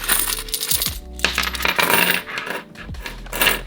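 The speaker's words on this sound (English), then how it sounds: "So the last thing that we have to stuff is our coins." Coins from recent weeks being stuffed by hand into a cash savings envelope: repeated metallic clinks and jingling as loose change drops and slides together, close and loud, with no talking.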